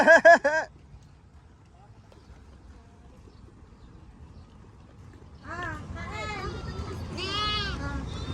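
A sheep bleats loudly and close by in a short burst. A stretch of quiet outdoor noise follows, then voices and more bleat-like calls rise toward the end.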